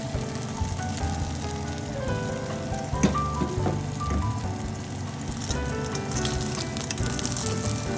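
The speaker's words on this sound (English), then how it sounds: "put the beaten egg and fry for 1 minute until both sides turn golden" Beaten egg frying in hot oil in a pan: a continuous crackling sizzle like light rain, with one sharp click midway and no talking.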